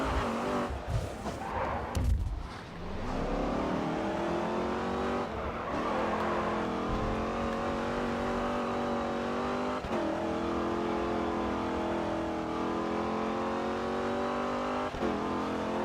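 Race cars in Grid 2, including an Alfa Romeo and a Dodge Challenger, with engines revving hard through rising and falling gear changes, tires squealing and skidding, close and loud throughout.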